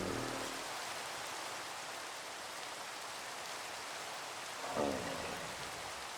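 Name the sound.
rain in the video game Minecraft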